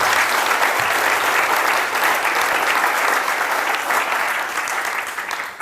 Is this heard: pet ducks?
no